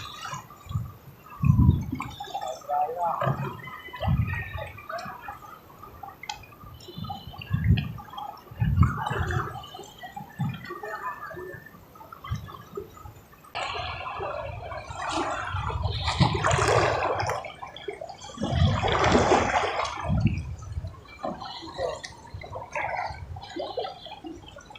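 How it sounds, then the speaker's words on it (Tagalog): Choppy water sloshing and splashing near a small fishing boat on rough, wavy water. Irregular gurgling surges come and go at a fairly low level, and nobody speaks. "Sobrang malakas ang ano, alon."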